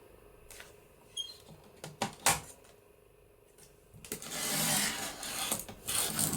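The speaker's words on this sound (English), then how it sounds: "So let's trim this down." Paper journal cover being trimmed for an ephemera pocket, with sharp scattered snips and taps early, then a longer steady rasping cut near the end, close and moderately loud with no talking.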